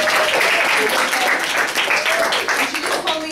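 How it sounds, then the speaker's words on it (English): A classroom of students claps loudly and continuously for a classmate's birthday, a dense, close wash of applause with some voices mixed in. "so let's clap it up for Bora again."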